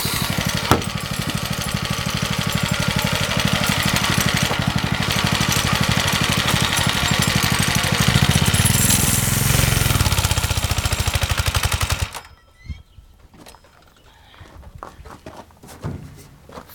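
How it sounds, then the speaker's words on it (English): A go-kart engine runs loud and close with a rapid, pulsing rattle that rises in pitch, then cuts off abruptly, leaving faint scattered knocks and rustles afterward. "Fucking car just died out."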